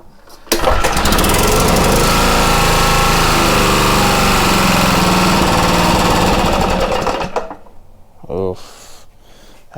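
A Kawasaki FJ180 small engine running rough, a loud close clattering roar that holds steady for about seven seconds, then cuts out into quieter sputters and a brief mechanical rattle.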